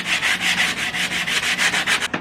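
Soft sanding block loaded with 80 grit paper rubbing wood on a Les Paul style guitar body, a close, steady rasp repeated in quick back-and-forth strokes, about a dozen passes with no talking.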